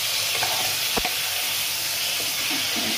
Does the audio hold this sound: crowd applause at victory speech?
no